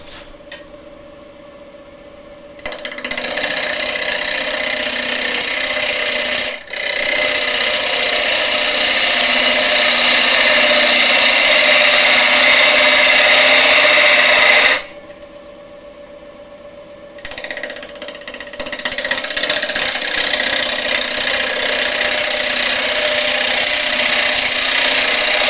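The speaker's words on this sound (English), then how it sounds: "So I'm going to start with a small 1/4 inch or 6mm bowl gouge." A wood lathe spins a resin bowl being cut with a small quarter-inch bowl gouge, giving a loud, steady whirring and scraping drone in two long passes with brief quieter pauses between them.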